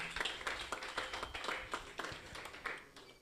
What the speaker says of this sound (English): That's a good place to clap your hand, everybody.